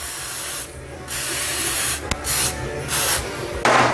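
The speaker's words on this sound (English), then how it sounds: "Let's go ahead and put some WD in here." WD-40 lubricant sprayed onto a Honda transmission part during a rebuild, several hissing aerosol bursts of about a second each, close and loud, with short pauses between them.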